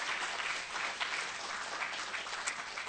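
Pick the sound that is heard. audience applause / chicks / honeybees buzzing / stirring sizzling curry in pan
audience applause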